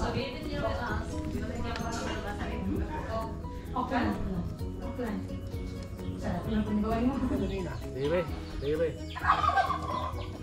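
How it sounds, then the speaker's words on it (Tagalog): Chickens cluck and gobble in repeated bursts close by, mixed with voices talking throughout. "Chicken."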